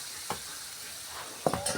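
Hot water goes into a sizzling, well-fried curry, giving a brief steady hiss broken by a couple of sharp pan knocks and splashy bursts, close and fairly loud.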